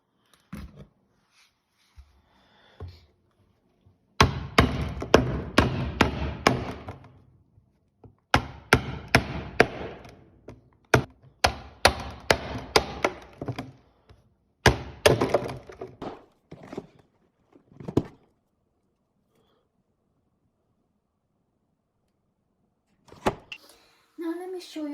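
A big 20-pound beeswax block being broken apart: bursts of sharp cracking, snapping and knocking come close and loud in several clusters, with quiet pauses between them and no talking.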